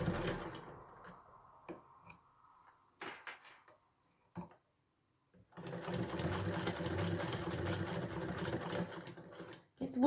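A sewing machine stitches handbag lining pieces together in short separate bursts, with a small rattle and handling noises in between, then runs in one longer steady spell before it stops.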